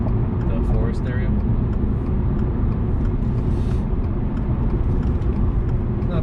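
A 2022 Subaru WRX cruises at night on a forest road in the Bay Area, giving a steady, dense cabin rumble of engine and road noise that stays even throughout.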